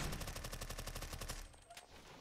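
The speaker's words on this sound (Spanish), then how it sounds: "Hay disparos, hay disparos." Rapid automatic gunfire in a Roblox game rattles in a fast, even burst for over a second, then gives way to a few scattered, quieter shots.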